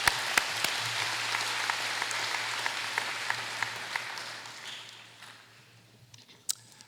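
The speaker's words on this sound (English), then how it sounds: "So one more round of applause" Applause for elementary teachers at a school district convocation, a steady spread of many hands clapping with a few sharp nearby claps on top, gradually thinning and fading toward the end, a low steady hum underneath.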